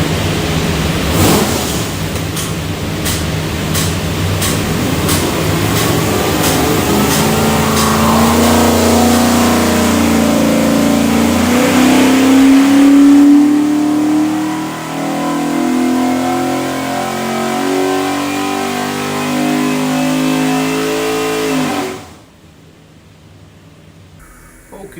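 Stack-injected 427 Ford V8 from a '68 Mustang roaring on a dyno, loud and sustained as revs climb steadily in a long pull, briefly easing then holding before cutting off sharply to near quiet.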